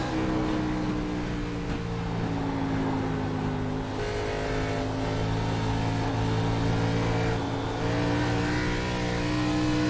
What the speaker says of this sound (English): You can see him and hear him getting in and out of the throttle, working that steering wheel back and forth.